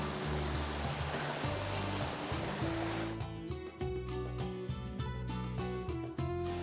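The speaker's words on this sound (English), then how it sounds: "We made it to the waterfall!" A waterfall along the Road to Hana on Maui gives off a steady, broad rush of falling water. About halfway through, tonal music rises and largely covers the roar.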